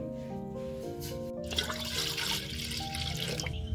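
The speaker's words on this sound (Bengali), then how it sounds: "হাঁড়িতে দিয়ে দিব আমি পানি" Water poured into a cooking pot set on a stove, a rushing splash starting midway and continuing steadily, with tonal background music underneath.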